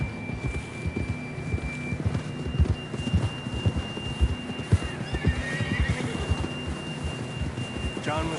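A horse neighs and whinnies in an open-world PS4 western game, with clip-clopping hooves and a low hum running beneath the repeated calls.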